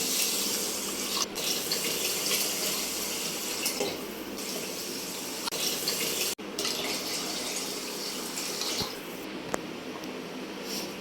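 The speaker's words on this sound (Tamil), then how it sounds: "தேவையான தண்ணி ஊற்றிக்கலாம்" Water pours steadily from a tap into a pot of rice for a fish curry, a continuous close gushing with a brief interruption midway.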